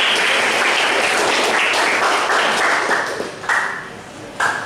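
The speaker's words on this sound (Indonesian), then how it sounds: "Tepuk tangan semuanya." Classroom students clapping their hands together in a loud, close, continuous burst that eases slightly toward the end, with a few sharp bright accents.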